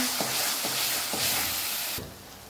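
Coriander powder and garam masala roast softly in a pan, with a low sizzle and several regular stirring scrapes, quiet and close.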